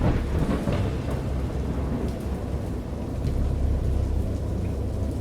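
A thunderstorm rages in the horror video game Dagon, with deep rolling thunder rumbling under a dense, steady wash of heavy rain.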